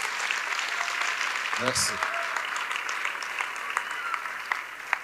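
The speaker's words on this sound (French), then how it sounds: "Clap for Jesus." Church crusade congregation applauding, with steady dense clapping from a crowd and a spoken word briefly over the clapping.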